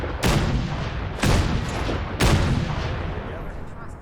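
Three heavy weapon blasts boom in the Fallout 4 VR video game, spaced about a second apart over a continuous dense rumbling background.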